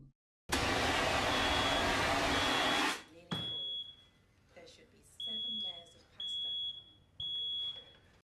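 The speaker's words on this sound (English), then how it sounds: "that fire alarm gives me a fucking PTSD" A smoke alarm in a restaurant kitchen scene of a TV drama sounds in four short, shrill, evenly spaced beeps, after a loud burst of broadband noise, with voices talking between the beeps.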